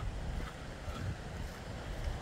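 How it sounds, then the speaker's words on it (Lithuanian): Water rushes steadily past the old mill dam foundations on the green bank of the Zalvė river, a constant broadband roar with low rumble and wind-like noise, close and unbroken with no voices. "Daug žalumos, daug vandens, daug šniokštimo."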